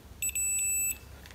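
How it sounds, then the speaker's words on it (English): A multimeter in continuity mode, its wires touching, gives a sharp, high electronic beep that chirps briefly, then holds as a steady tone for about half a second before cutting off; close and clear. "what happens when you have it set to the continuity mode here"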